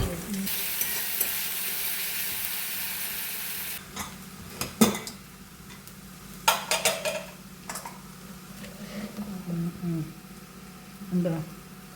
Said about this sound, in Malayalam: വെളിച്ചെണ്ണ ചൂടായി ഉള്ളി വെളുത്തുള്ളി ചതച്ചതിട്ടു ഇളക്കാൻ നന്നായിട്ട് നല്ല ഗോൾഡൻ ബ്രൗൺ കളറാവണ വരയ്ക്ക് ഇളക്കാം